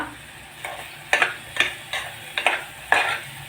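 A spoon scrapes and stirs Malvani masala with red masala through a cavichya (black-eyed pea) gravy base in a pan, giving five or six rhythmic scraping strokes over a soft sizzle, close and clear, without speech.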